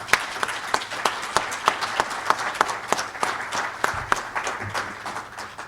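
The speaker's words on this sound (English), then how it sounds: "I would like to start, before we formally start, with offer a round of applause to the graduates." A round of applause for physical therapist assistant graduates at a university pinning ceremony, steady clapping from a modest crowd with distinct individual claps punctuating it throughout.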